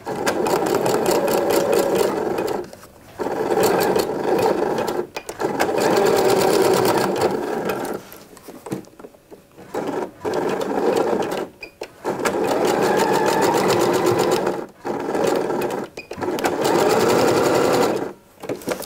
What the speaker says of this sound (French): Donc je fais le zigzag ici.